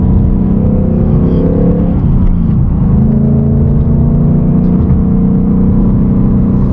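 A manual car accelerates hard onto a highway with a loud, steady engine drone close up. The revs dip briefly as the driver shifts gears, then the engine climbs and hums on.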